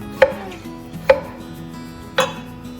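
A knife chops leek on a cutting board in three separate, sharp strokes, spaced about a second apart, with quiet pauses between them.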